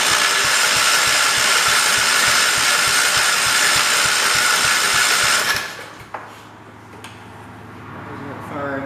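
Kohler engine on a 1968 112 garden tractor cranking over on the starter without firing, a loud rapid rhythmic churn that stops abruptly partway through, followed by quieter clunks and low background noise.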